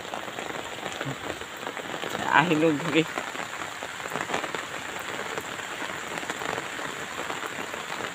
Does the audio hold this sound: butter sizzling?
no